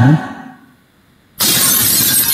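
A plate smashes with a sudden loud crash after a moment of near silence, the bright shattering noise holding steady to the end with no one speaking.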